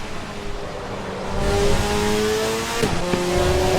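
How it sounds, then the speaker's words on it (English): A racing car engine in the video game Assetto Corsa Evo revs loudly and steadily, its pitch climbing before a quick gear change and a renewed rise. "Sick car."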